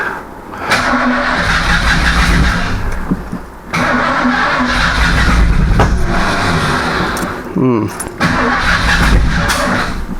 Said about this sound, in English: Backfiring. Timing's bad.